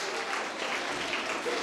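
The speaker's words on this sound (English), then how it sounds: "So can we please hear a very big round of applause for Mr." Applause from a school junior section audience for chess coach Mr. Shinoy, judge of a chess event: an even, continuous wash of clapping from many hands at moderate distance.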